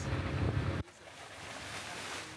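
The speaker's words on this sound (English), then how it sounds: "We're on the zodiac." Zodiac inflatable boat out on the water in the Beagle Channel: steady outdoor rush of water and wind noise across the microphone, loud at first, then dropping suddenly to a quieter wash.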